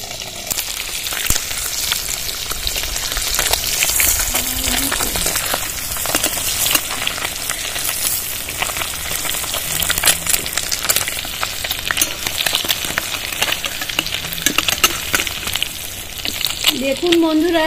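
Boiled eggs frying in hot oil in a wok, giving a steady broadband sizzle and crackle that runs throughout, with occasional stirring clatter and faint voices in the background.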